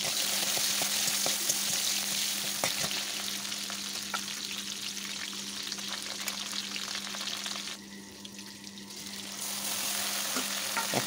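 Chopped onions fry in hot oil in a heated wok, producing a continuous close sizzle with scattered crackles and stirring taps throughout, with no voices.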